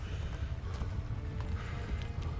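Horse hooves clop in a quick, steady rhythm in the medieval video game Kingdom Come: Deliverance, a muffled, fairly quiet gallop with no pauses.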